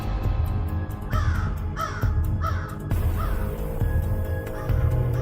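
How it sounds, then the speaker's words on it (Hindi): Cartoon crows caw in a harsh, repeated series: three or four close, loud caws in a row, then a few more scattered calls over a steady low background. "कौवे उसे लेकर हवा में उड़ने लगते हैं।"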